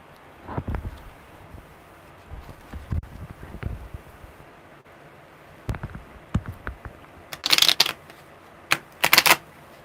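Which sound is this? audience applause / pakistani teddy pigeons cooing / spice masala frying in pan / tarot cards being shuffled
tarot cards being shuffled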